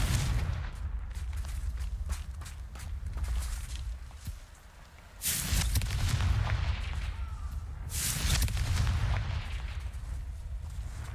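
Fiery Confringo explosion spells cast repeatedly in the Hogwarts Legacy video game, heavy booming blasts with two loud surges amid continuous rumbling combat noise.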